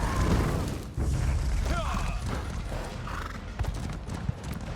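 Hooves clatter rapidly as a horse gallops in Elder Scrolls Online, with whinnies and thuds from jumps, under busy game noise and some talking.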